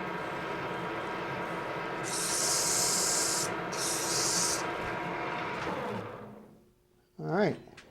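Sandpaper rubs steadily over a tapered wooden cylinder pattern, a continuous close scratchy hiss with two brighter bursts of heavier strokes, then it trails off and a short tonal sound ends it.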